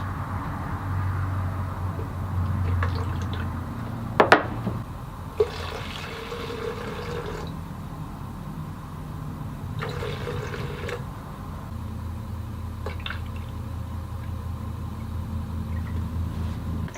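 Home-brew wood finish liquids are poured and sloshed together in a jar, a soft, steady liquid churning with a sharp knock of glass near the middle, close by and with no talking.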